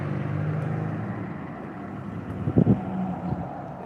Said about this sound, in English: there goes our Domino's car again